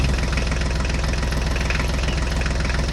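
A truck engine idles steadily with a low, regular knocking throb while towing a monster tractor, loud and continuous throughout with no talk.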